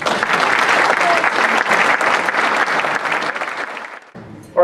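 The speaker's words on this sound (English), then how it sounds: "big round of applause for Michael Schoaf" An audience at an awards ceremony breaks into loud, sustained clapping and cheering that fades toward the end before a brief sharp noise cuts in.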